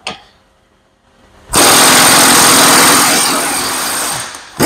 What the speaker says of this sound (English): And this was a 3/4 inch drive impact, Ingersoll Rand, 2145 QI Max